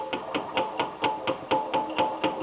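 A hammer strikes a screwdriver against the rear axle of an ST1100 motorcycle, about ten sharp metallic taps in an even, quick rhythm, close up with no talking.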